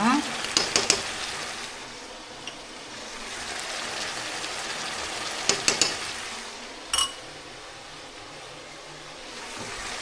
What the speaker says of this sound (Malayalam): അപ്പോൾ ഇനി ഇതിനൊന്ന് മിക്സ് ചെയ്യാം.